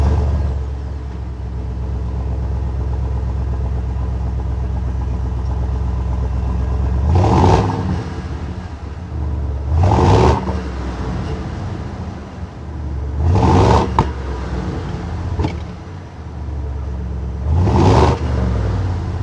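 A 2023 Ford F-250 Tremor Super Duty truck idles with a deep, steady rumble, then its engine is revved four times in sharp, spaced bursts, close and loud.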